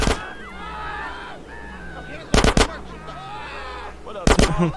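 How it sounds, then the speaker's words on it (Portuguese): Gunfire from non-player characters in GTA San Andreas on Grove Street, two short sharp bursts of a few shots each, heard under ongoing background sound and someone speaking. "Os carinha atirando"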